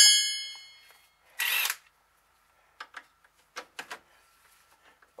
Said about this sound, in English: now I can use my impact